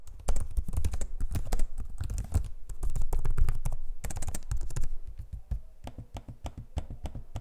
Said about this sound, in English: here's a sample of the audio of the keyboard and trackpad so you can hear what it sounds like in use